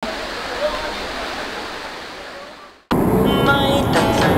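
Steady broadband rush of a waterfall at a camp site in Labi, Bongabon, Nueva Ecija, loud and continuous, dipping briefly before returning stronger and closer.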